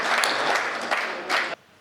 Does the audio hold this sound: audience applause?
yes